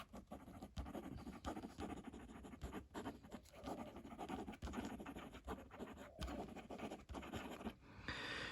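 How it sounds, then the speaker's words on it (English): A Moonman Majohn A2 fountain pen scratches quickly across paper, its nib making a continuous dry, scratchy rustle with quick stroke-by-stroke pulses, close and steady with no talking. "If we do some fast writing"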